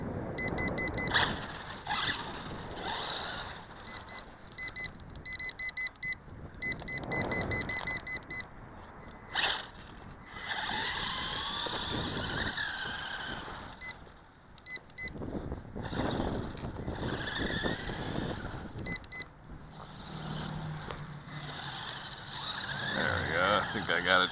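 A WLtoys A959 Vortex RC car runs over dirt and gravel, its small electric motor whining in repeated bursts with crunching tires, while someone talks over it throughout.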